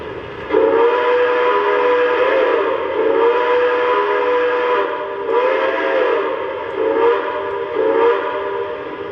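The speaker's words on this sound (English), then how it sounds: "One of my favorite things about this locomotive is its whistle." An O gauge model train locomotive sounds its whistle in a series of loud, close, harmonic blasts. The blasts rise and fall over a steady running hum.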